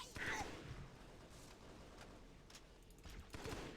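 Rapid bursts of gunfire in the video game Halo SPV3 rattle at moderate level, mixed with shouted voices and battle noise.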